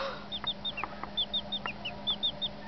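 Young chicks give a quick series of high, thin peeping calls at close range, each chirp short and repeated in an uneven rhythm over a low, steady background hum.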